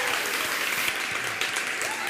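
A studio audience claps warmly for Shakira's entrance during an Oral-B interview, loud sustained applause with a few faint voices mixed in.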